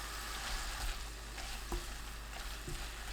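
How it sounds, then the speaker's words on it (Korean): Taro stems with perilla seed powder sizzle and fry in a pan, a steady soft hiss broken by occasional scraping stir clicks. "들깨가루 듬뿍 한 큰술 넣고 40초 볶아주세요"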